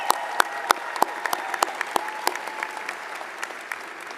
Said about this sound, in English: everybody can give them a round of applause